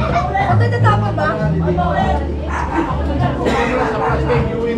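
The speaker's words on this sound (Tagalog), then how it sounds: "Aso." Dog barking at a family house blessing and birthday party, a few barks heard amid constant chatter and crowd babble from people talking nearby.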